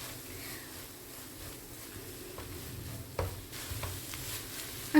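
Elanji masala is stirred with a handful of coriander leaves in a pan, soft sizzling with scraping and occasional spatula taps that grow a little louder toward the end.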